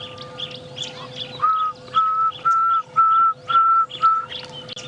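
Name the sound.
pearl-spotted owl calling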